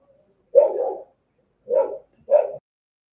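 Household dogs bark three times at something, a longer bark and then two shorter ones, fairly close and clear with no voices.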